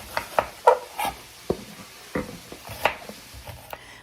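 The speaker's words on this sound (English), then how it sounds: "So let's get our beef into the pan. We're going to brown this up" Ground beef browns in a pan for a casserole, with a spatula stirring and scraping in irregular knocks and clacks over a soft, low sizzle, close and moderately loud.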